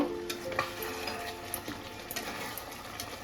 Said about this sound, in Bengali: এবার আর চাপা দেবো না এইভাবে আস্তে আস্তে আমি কষিয়ে নেবো